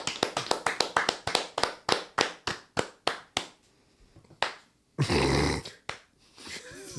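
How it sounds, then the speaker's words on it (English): A single person claps in a quick run of sharp, close slaps that slow down and thin out, then a loud rustling burst and a short growling sound follow. "Can we get a round of applause for Thank Dodge?"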